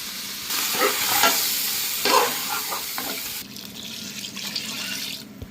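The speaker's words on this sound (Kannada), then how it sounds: "ಆ ಮಸಾಲೆನ ಹಾಕೊಂಡು ಮಿಕ್ಸ್ ಮಾಡ್ಕೋಬೇಕು" Salt and masala being stirred into mutton in a pot, with scraping and wet mixing sounds and a soft sizzle, close and continuous, with a brief clatter near the end.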